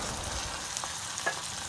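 Chopped onion and tomato sautéing with cumin on a high flame, a dense even sizzle with a couple of faint stirring taps, heard alone without talk.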